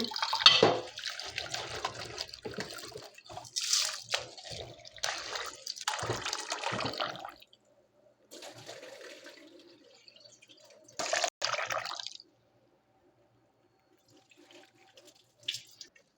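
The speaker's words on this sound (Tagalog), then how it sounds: "Ito na itong ating adas. Hugasan muna natin." Lentils are rinsed under a running kitchen tap in intermittent bursts of splashing water, louder at first, then a pause, a few shorter runs and a brief final splash, close and alone.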